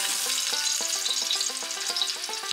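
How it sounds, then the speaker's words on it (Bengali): Potatoes fry in hot mustard oil inside a pressure cooker, giving a continuous bright sizzle dotted with rapid crackles and pops at close range, with no voices. "আলুগুলোকে আমরা তেলের মধ্যে ভেজে নেব।"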